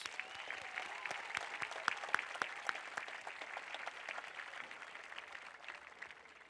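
A graduation audience gives a round of applause, the clapping faint and distant, with sparse individual claps standing out against a soft crowd wash.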